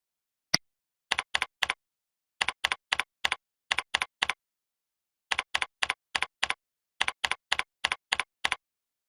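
Computer keyboard keys tapped close by in short quick bursts of three to five strokes separated by pauses, crisp and clear with no voices.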